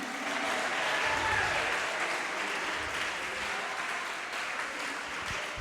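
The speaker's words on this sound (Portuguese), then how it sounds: "Os que servem a Jesus, pode aplaudir." A church congregation applauds steadily throughout, a dense, even wash of clapping from many hands that holds at a constant level with no talk on top.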